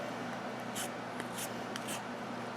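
Quiet, short scraping strokes repeat close up, a few brisk rasps of a scissor blade shaving down a chalk pastel.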